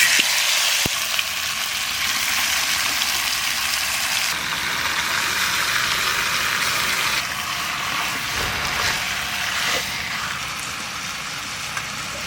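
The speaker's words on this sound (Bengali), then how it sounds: "একটু হাঁড়িতে লেগে যাবে বলে একটু তেলটা গরম করে দিলাম।" Mustard oil heats and sizzles in a cooking pot on a village-style stove, a steady close frying hiss that holds throughout with slight shifts in intensity and no talk.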